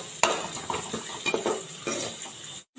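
Chopped onion, green chilies and curry leaves sauté in a pan while a utensil scrapes and clatters against the metal in quick, irregular strokes, with a soft sizzle underneath.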